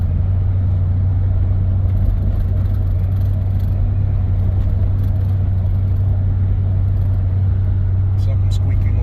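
A 1971 Dodge Polara with about 31,000 original miles cruises down the road, its steady low engine drone and road rumble continuous throughout at close range, with faint rattles near the end.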